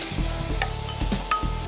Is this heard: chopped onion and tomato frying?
yes